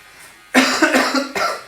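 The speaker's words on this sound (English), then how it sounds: "Where this cough come from?" A sudden fit of harsh, loud coughing nearby, two or three chesty bursts in quick succession after a moment of quiet.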